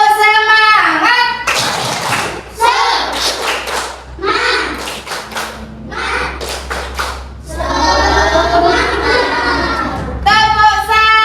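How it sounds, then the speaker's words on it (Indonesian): Classroom children performing a rhythmic spirit clap, sharp bursts of hand claps and taps in patterned groups, alternating with a teacher's sung and spoken chanting close to the microphone. "Tepuk semangat."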